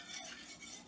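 A metal utensil scrapes pork roast steak drippings across the bottom of a frying pan over medium heat, making a steady close scratching with light clinks and no voices.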